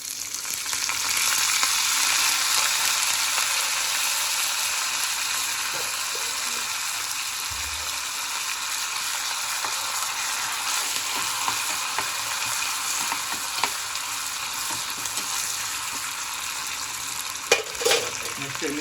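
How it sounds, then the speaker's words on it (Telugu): Tempering seeds and curry leaves fry in hot oil with a steady, close sizzle that continues throughout, with a few utensil clinks near the end. "నెక్స్ట్ తాలి గింజలు ఒక స్పూన్ అయితే వేస్తున్నాం తాలి గింజలు నెక్స్ట్ కరివేపాకు వేస్తున్నాను"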